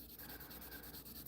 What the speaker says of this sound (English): Another reason I like to do wet sanding with resin